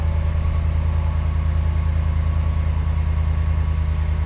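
A Ram truck engine idles with a steady low rumble, close and loud, running evenly throughout without talk; the start itself is not distinct.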